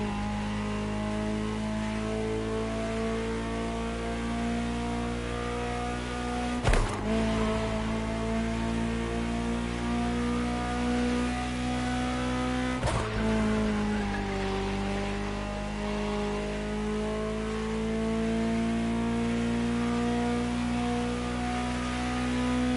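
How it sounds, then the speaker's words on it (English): A Ferrari supercar engine drones steadily while driving in the video game The Crew Motorfest, with a sustained tonal engine note that briefly dips and shifts at two points as the gears change. "Just listen to the car you're driving. She'll tell you her story herself."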